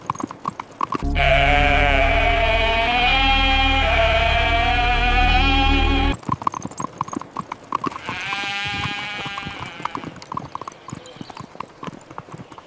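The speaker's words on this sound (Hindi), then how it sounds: "क्या हमें अवासी नस्ल की भेड़ें मिल सकती हैं?" Awasi sheep bleating, long loud wavering bleats up close, one sustained call followed by a second fainter one amid clopping hooves and bustling livestock noise.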